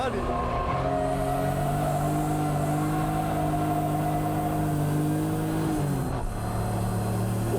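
Car lapping Tsukuba's Course 1000, a small circuit with tight corners: the engine drones steadily at a sustained pitch from inside the car, then drops and shifts sharply near the end as it changes gear.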